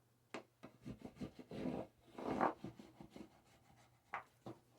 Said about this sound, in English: got my trusty soap. I'm going to make that mark.